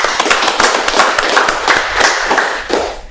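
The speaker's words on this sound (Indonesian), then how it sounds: "Tepuk tangan dulu itu." A burst of applause, many hands clapping in a dense, steady patter that fades slightly toward the end.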